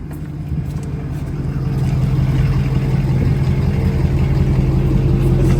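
A Ford F450 Power Stroke diesel truck sits idling after a remote start, its engine settling into a steady low rumble that grows slightly louder and fuller, with no talking over it.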